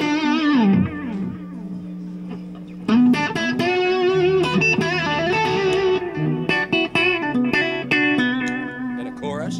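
Heavily distorted electric guitar playing sustained notes and bends, then a busier run of chords and single notes, loud and saturated, no voice.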